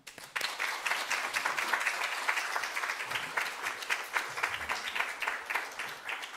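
A church congregation breaks into sustained, dense applause to welcome a visiting pastor at an installation service, steady and full from just after the start to the end with no talk over it.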